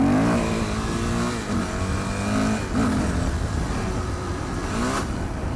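A Yamaha WR400F dirt bike engine on a Manx green lane catches and revs up and down in uneven bursts, loud and close, with no talk.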